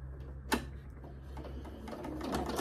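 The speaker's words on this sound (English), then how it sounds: "So now we're gonna take it to the machine and we're gonna sew along this side here." A sewing machine stitches a quilt seam with a steady low mechanical whir and light rapid ticking, close by, opening with a single sharp click.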